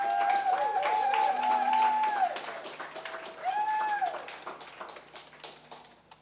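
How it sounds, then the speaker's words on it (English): At a recognition ceremony honoring a long-serving social security director in the Caribbean, the audience applauds moderately, with scattered clapping under a couple of drawn-out tonal whoops or cheers that fade as the applause tapers off. "Let us give Dr. Hodge a round of applause"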